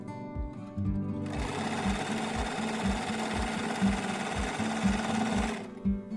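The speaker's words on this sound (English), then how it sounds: "and then sew along the curved edge." Sewing machine stitching along the curved edge of a homemade fabric face mask: a rapid, even mechanical thumping close up that starts, runs steadily for several seconds, and stops, with no talking.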